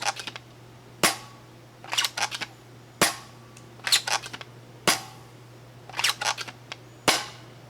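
A Flip Flop Foam Rush foam dart blaster fires repeatedly, each shot a sharp snapping pop, some followed by quick rattling bursts, spaced about a second apart and heard close over a low steady hum, with no talking.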